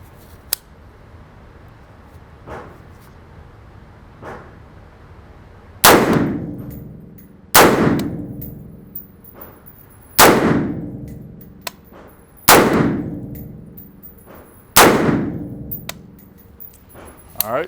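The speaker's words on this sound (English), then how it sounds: "I'm going to be firing 5 rounds at the smaller target" Five rifle rounds are fired at a smaller target, each a sharp, loud crack with a ringing metallic tail, spaced about two to three seconds apart after some fainter distant shots.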